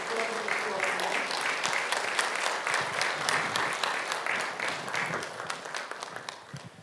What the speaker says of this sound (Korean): 큰 박수로 축복해 주시기 바랍니다.